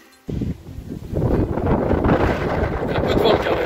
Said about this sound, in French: Un peu de vent quand même.